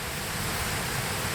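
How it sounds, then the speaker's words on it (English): A fast-flowing waterfall in Costa Rica rushes steadily, a dense, loud, unbroken hiss of falling water filling the scene with no voices. "we found the waterfall. It's coming down fast."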